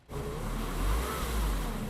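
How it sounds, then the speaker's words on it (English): Car stuck on a snowy street with its engine revving, a sustained low droning roar that rises in and holds steady, close and loud with no talk. "his car got stuck just feet from his front door"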